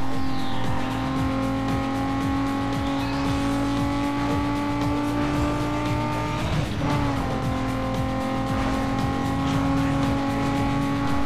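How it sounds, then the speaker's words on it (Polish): Race car engine sounds from the video game Need for Speed Underground 2: a loud, sustained engine drone with a brief tire squeal and engine-note shift partway through, no talking. "Twórcy gry również postarali się o realistyczne dźwięki samochodu."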